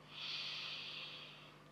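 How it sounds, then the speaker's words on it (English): A deep, steady breath drawn in during a relaxation exercise, a soft airy rush that swells quickly and holds for over a second, close and quiet with no talking. "Really think about filling those lungs with air as you breathe in"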